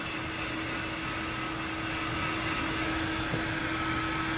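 A hair dryer blow-drying long hair with a round brush, a loud, continuous whooshing hum that stays steady from start to finish, with no talking.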